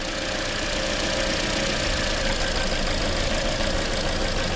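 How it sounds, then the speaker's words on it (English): Engine of a 2013 Toyota Corolla running with a misfire, a steady close-up idling drone with rough, uneven knocking pulses throughout, no voices. "it's definitely misfiring now"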